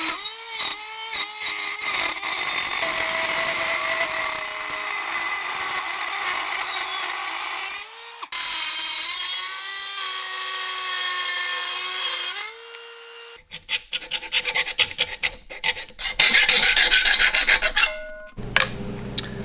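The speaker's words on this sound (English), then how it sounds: "We're just going to take a Dremel tool and cut that right out and put it right back on." A Dremel rotary tool cuts a notch out of a plastic tip-up end cap, giving a loud, sustained high whine that shifts pitch as it bites, then a stretch of choppy grinding bursts near the end, close up with no speech.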